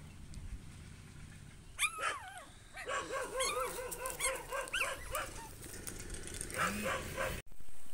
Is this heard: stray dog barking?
yes